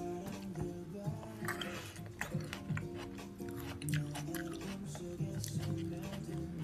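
Wet, smacking chewing sounds repeat steadily at close range, with soft squishy bites and a few quiet vocal murmurs.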